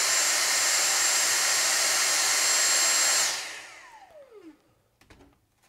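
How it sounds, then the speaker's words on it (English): A handheld Dyson vacuum runs with a loud, steady high-pitched whine, then switches off and winds down with a falling tone, leaving faint handling clicks near the end. "let's move on to that handheld Dyson vacuum."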